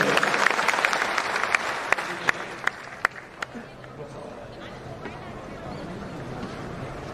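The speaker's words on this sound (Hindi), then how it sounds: "एक बार जोरदार ताली सबके लिए होना चाहिए।" Audience applause from a crowd in a hall during a political workshop, bursts of clapping with sharp claps over a murmuring room, fading after a few seconds.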